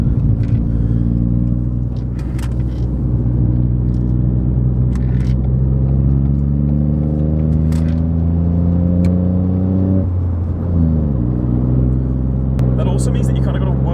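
A rebuilt Ford Fiesta MK7 with a 1.0L EcoBoost engine driving, heard from inside as a loud, steady engine drone whose pitch climbs, then drops with a gear change, while a person talks over it.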